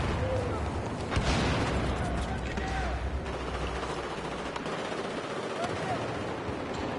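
Dense, continuous gunfire and distant explosions from a Battlefield 4 firefight fill the scene at a steady loud level, with rapid crackling bursts layered over a rumbling low-end wash.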